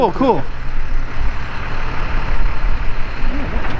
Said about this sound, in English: That bus is like the only thing I can hear.